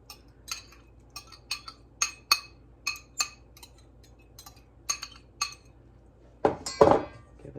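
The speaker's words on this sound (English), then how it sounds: "Give it a good mix." A spoon clinks steadily against a bowl while mixing a beet dog-treat mixture, giving a dozen or so crisp metallic taps at an uneven rhythm, ending in a louder scraping clatter close by.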